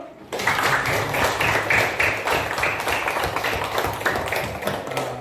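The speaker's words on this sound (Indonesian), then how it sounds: "Nah, tepuk tangan dulu." Children in a classroom clap together in a fast, loud, rhythmic burst that starts abruptly and continues steadily close by.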